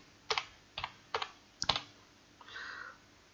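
Keys tapped on a computer keyboard to type a short command into the Windows Run box, four distinct clicky keystrokes close up, then a softer final press and brief rustle, with no talk.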